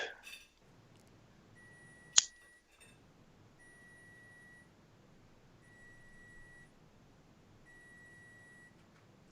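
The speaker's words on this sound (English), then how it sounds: "What is that beeping noise? Sounded like a microwave." An oven beeps four times in a slow, even series of thin electronic tones, quiet against a near-silent room, with a short sharp click just before the beeps.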